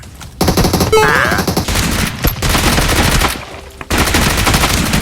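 Bursts of automatic gunfire from a PUBG Mobile match ring out through most of the stretch, dense and fairly loud, with a short lull near the end before shooting resumes.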